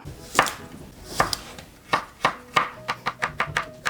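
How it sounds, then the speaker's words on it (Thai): A knife chops through an apple, cutting it into a turtle shape, onto a board in sharp, crisp strikes, spaced at first, then quicker and more regular toward the end. "เรามาหั่นแอปเปิลให้เป็นเต่าเลยนะครับ"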